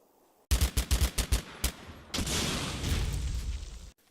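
Enemy small-arms fire in the World War II strategy game Combat Mission Final Blitzkrieg: a rapid rattling burst of about eight close, loud shots, followed by a sustained roaring fusillade that cuts off abruptly.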